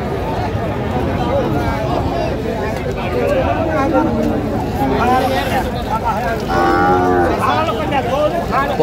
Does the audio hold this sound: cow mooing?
yes